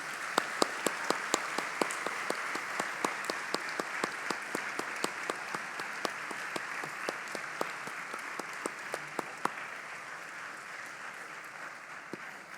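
Long, steady applause fills a graduation ceremony hall, a broad wash of many hands with a few louder claps nearby standing out at a regular rhythm, continuing unbroken throughout.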